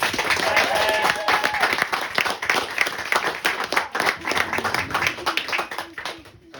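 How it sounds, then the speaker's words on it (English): Applause and clapping from wedding guests during a best man's speech, a steady burst of many hands lasting several seconds, with chatter and voices mixed in underneath. "So a round of applause for them"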